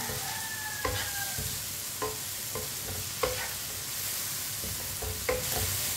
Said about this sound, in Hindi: फ्राई किए हुए प्याज डाल लेंगे। मिक्स कर लेंगे।